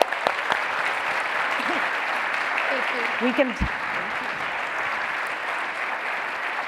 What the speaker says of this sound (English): Can we please give a round of applause for these amazing women?